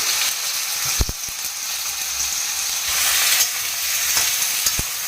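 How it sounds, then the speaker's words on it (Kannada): Potatoes fry in hot oil in a pan, giving a continuous loud, close sizzle with occasional sharp pops and clicks of stirring. "ಎಣ್ಣೆ ಕಾದಿದೆ ಈಗ ಎಣ್ಣೆಯಲ್ಲಿ ಆಲೂಗಡ್ಡೆನ ಹಾಕಿ"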